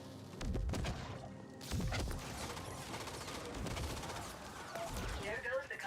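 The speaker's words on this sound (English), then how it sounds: "where is this turret that's shooting at me?" Mortar turret firing in the video game The Ascent, several heavy booming blasts with rumbling impacts spaced across a few seconds, mixed with other game effects and crackling debris.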